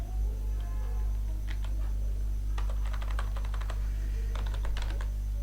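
Code being typed on a computer keyboard for a Docker Compose setup deploying Django with Nginx and MySQL: bursts of quick, close key clicks with pauses between, over a steady low electrical hum, no talking.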